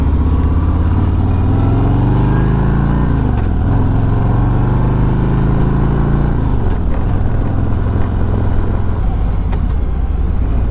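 A 2021 Harley-Davidson Road Glide Special being ridden, its engine a loud continuous rumble with pitch rising and falling through gear changes and throttle swells, plus wind noise, with no talk over it.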